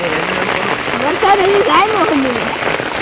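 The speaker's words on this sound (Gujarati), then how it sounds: "અને વરસાદ તો હજી બંધ થવાનું નામ જ નથી લેતા" Steady rain falls on farmland, a continuous hiss and patter under a voice that talks and rises in pitch for most of the stretch.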